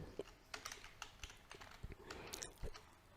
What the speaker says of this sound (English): type the command if config